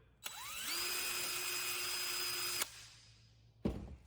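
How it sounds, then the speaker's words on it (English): A small power drill with a small bit whirs steadily at high pitch for about two seconds, drilling a hole through a plastic jug cap, then stops; a brief clunk follows shortly after. "start with the cap and using a small drill bit"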